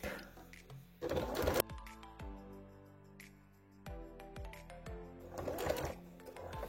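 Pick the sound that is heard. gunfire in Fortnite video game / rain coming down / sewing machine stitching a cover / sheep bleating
sewing machine stitching a cover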